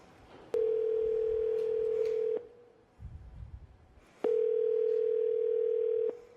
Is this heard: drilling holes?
no